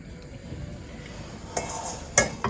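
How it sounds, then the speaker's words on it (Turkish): A few quiet metallic clinks and knocks as cookware is set down, with soft rustling in between. "Tenceremi dizeceğim."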